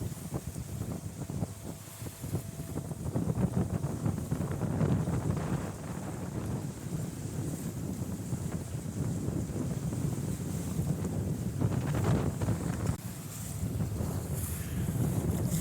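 A sailboat motors into a reef channel against a strong headwind, with a steady low engine drone under heavy, constant wind buffeting on the microphone and water rushing past the hull.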